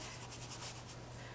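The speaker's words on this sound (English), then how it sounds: "I'm just going very lightly over the embossing" A sponge rubs ink lightly over embossed paper in a faint, soft scuffing of brief repeated strokes at close range, with no talking.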